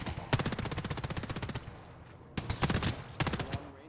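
SMG fire in the video game ASCENDANT, close rapid automatic bursts: one long burst, a pause, then two shorter bursts.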